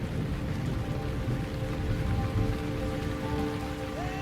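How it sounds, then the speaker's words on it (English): Heavy rain pours steadily during a violent thunderstorm on the open Liuwa Plain in Zambia, a dense, constant hiss of drops on the ground with a low rumble beneath, loud and unbroken with no voices. "The storms in Liuwa are always violent and unsettling for us."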